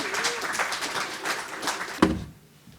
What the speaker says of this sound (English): Let's bring him on with a warm round of applause to moderate this next panel.